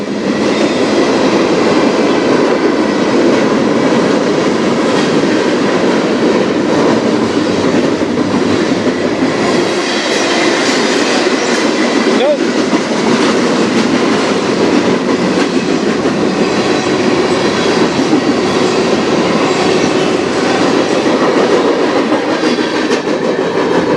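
A CSX freight train rolls steadily past up close, a continuous loud rumble of wagons with clattering wheels and brief squeals persisting for the whole stretch.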